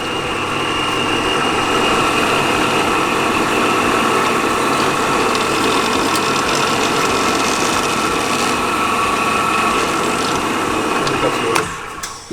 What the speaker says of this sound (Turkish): Burada matkapta deliklerimizi açacağız